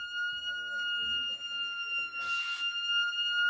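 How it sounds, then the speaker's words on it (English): Loud building fire alarm sounding during a drill, a steady piercing electronic tone held throughout, with a person speaking over it and a burst of noise near the end. "This is a fire alarm."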